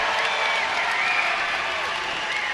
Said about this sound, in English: nice loud cheer for Keandre Gardner